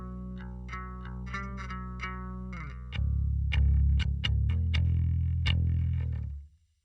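Electric guitar played through a fake DI signal, dry and thin: a run of plucked notes, then heavier sustained chords and stabs that cut off abruptly at the end.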